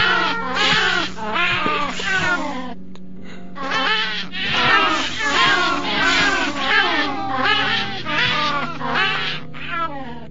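Cats meow repeatedly in the video game Minecraft, with plaintive, overlapping cries in a rapid, continuous series, loud and close, and a brief pause partway through.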